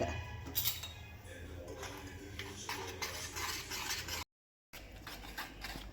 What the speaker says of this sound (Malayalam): ഇതൊക്കെ നല്ല സ്മൂത്തായിട്ട് നമുക്കൊന്ന് മിക്സ് ചെയ്തെടുക്കാം